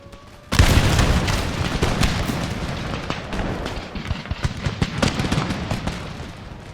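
A musket volley erupts in the battle game Empire Total War, a sudden loud crashing roar followed by a rolling, crackling spread of gunfire and booms that fades gradually, with no voices.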